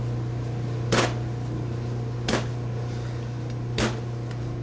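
Whole garlic cloves are smashed on a board, giving three sharp, separate knocks spaced about a second and a half apart. The knocks sound close, over a steady low kitchen hum.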